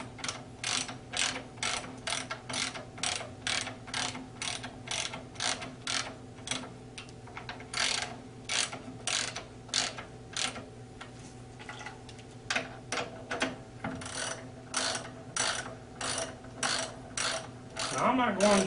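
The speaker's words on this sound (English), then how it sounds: "Now I'm not going to tighten all the bolts up since I'm using a ratchet." A hand ratchet tightens the bolts on a 14-inch Lipe clutch, ticking in rapid bursts of close, crisp clicks that repeat in a regular back-and-forth rhythm.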